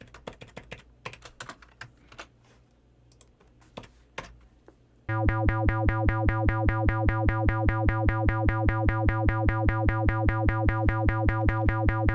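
A filtered synthesized electronic tone programmed in the ChucK audio language, entering abruptly after scattered clicks and typing, then sustaining as a loud, bright, buzzy pulsing drone with a steady rapid repeating rhythm, alone without any voices.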